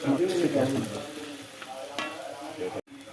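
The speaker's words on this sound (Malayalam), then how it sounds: "കണ്ടോ രണ്ട് മുട്ട ചേർത്ത് കൊടുത്തിട്ടുണ്ട് ഇതിങ്ങനെ ഇങ്ങനെ ഒന്ന് ഉടച്ചെടുക്കണം" Two eggs stirred and mashed in a hot frying pan, with a continuous close sizzle and scraping stirs that taper slightly before a brief cut near the end.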